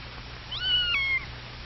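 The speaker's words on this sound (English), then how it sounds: "He makes friends with Anna the cat" A cat meows once, a clear rising-then-falling call lasting about half a second, fairly close and alone over a low steady background hum.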